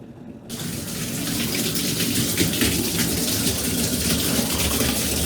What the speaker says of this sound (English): you should hear the water coming out in the shower